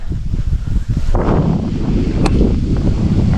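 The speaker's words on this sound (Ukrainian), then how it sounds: "Піднявся вітерець вже, погодка міняється і вітер помінявся." Steady wind blowing and buffeting the microphone on the Horyn River in October, with rustling and a low continuous rumble throughout, no voices.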